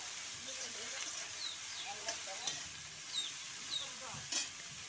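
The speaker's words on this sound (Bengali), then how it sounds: "সেটা হালকা কিন্তু একটু লাল লাল করে ভেজে নেব।" Beans and cauliflower stems fry in a pan with a continuous sizzle and hiss, broken by occasional scraping stirs and clinks, close up, with faint background voices.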